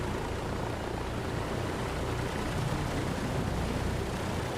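A Douglas DC-3 piston engine idles in a flight simulator, giving a dense, steady low rumble that runs unbroken and evenly loud throughout.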